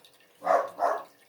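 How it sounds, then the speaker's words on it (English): A pet dog gives two short barks in quick succession, moderately loud and fairly close, with no talking over them. "Also, I'm sorry about my dog."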